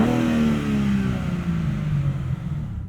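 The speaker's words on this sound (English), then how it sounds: "This 3-liter inline 6 actually sounds pretty good." A 2023 BMW M3 Competition xDrive with a 3-liter inline six revs in Sport Plus mode, a loud, steady engine drone heard from inside the cabin whose pitch wavers and eases slightly, with no talking.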